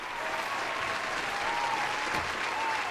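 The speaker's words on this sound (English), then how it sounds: "One last round of applause." Sustained clapping from a crowd, steady and moderately loud throughout, with a faint tonal sound drifting underneath.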